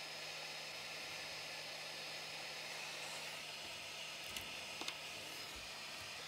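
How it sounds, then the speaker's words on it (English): A hot air rework station blowing onto chip pins to desolder a chip from an Atari 65XE board, giving a steady soft airflow hiss with a faint hum and a few small clicks near the end. "I'm just going to direct some hot air at these pins while pulling the chip up"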